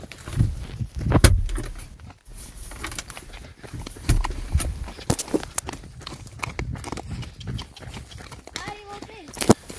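Horse hooves clip-clopping on the ground during a ride, uneven footfalls with tack jangles and rustling over a ride of about ten seconds, with a person talking over part of it.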